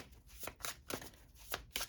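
Tarot cards shuffled in quick riffling bursts, about six short crisp flutters in a steady rhythm, close and quiet, with no voices.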